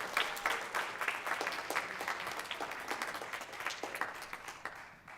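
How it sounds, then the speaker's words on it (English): Audience applause in a school auditorium after a middle school band Christmas concert, a steady wash of many hands clapping that holds for about five seconds and thins slightly at the end. "If you give her a round of applause, I'd really appreciate it."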